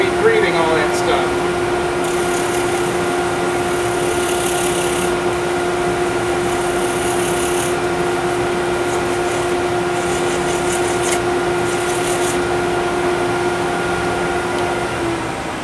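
A dust collector's steady, loud machine hum with a constant tonal drone runs throughout a woodturning session, joined by intermittent higher-pitched whirring bursts.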